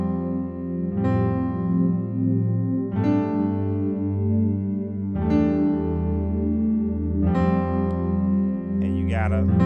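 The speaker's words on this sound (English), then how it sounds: "So now I can just play the chords and it'll sound like this." Keyboard playing a worship progression of sus chords in C, four broad sustained chords with warm pad-like low end that swell and ring into each other, steady and fairly loud without speech.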